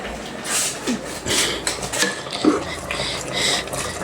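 Cabbage being stirred in a pan, with light scraping and clinking of a utensil against cookware in short irregular strokes, fairly close and moderately loud.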